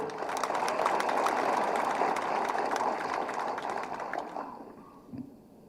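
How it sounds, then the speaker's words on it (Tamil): A large audience applauds at a political speech, a dense, steady wash of clapping that carries on for several seconds before fading out. "பத்தாவது கைத்தட்டு"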